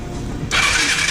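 A Vespa scooter that had been knocked over, its engine flooded with oil, turns over and then abruptly catches with a sharp surge of engine noise, loud and close.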